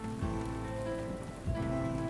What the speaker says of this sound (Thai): แต่แล้วจู่ๆก็มีพายุฝนตกหนัก